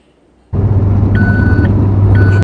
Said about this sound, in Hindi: ये आवाज़ जो आ रही है इसका मतलब ये गाड़ी और 120 हो चुकी है।